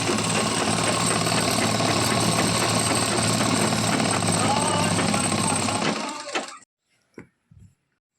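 A sewing machine stitching a housecoat at a tailoring class, its dense, loud whirring running continuously for about six seconds before stopping abruptly, followed by a couple of brief knocks.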